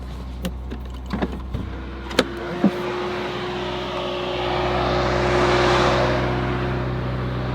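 A steady low engine rumble runs throughout, with a few sharp clicks early on and a broad whooshing swell building toward the end.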